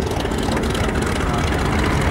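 A Boeing P-26 Peashooter's 600 horsepower radial engine at a flying legends airshow, a loud, steady propeller drone and engine rumble filling the whole stretch.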